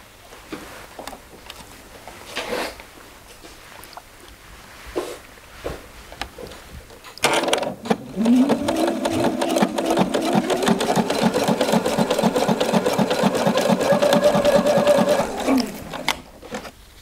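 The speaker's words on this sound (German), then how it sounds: "Okay, das geht jetzt zur Nähmaschine." A sewing machine runs steadily at close range, stitching lingerie fabric, its rapid needle chatter going on for several seconds after some quiet handling noises.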